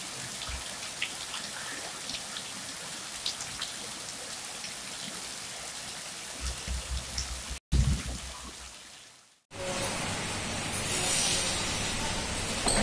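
Steady rain falls on flooded Jakarta streets with a dense patter of drops, continuous and fairly close, with a brief break and a louder wash of rain toward the end.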